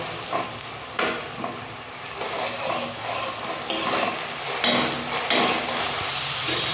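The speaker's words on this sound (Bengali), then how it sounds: "তো আদা রসুনটা কিন্তু মোটামুটি ফ্রাই হয়ে গেছে।" Ginger-garlic paste sizzles and fries in a hot pan, a steady close crackle broken by several scraping stirs and light clinks of a utensil against the metal, with no voices.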